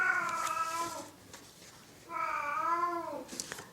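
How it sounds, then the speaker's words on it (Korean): A pet cat at home meows twice, each a drawn-out, wavering cry about a second long, separated by a short pause, fairly close but soft against a quiet room. "저희 집 고양이가 우는 소리입니다."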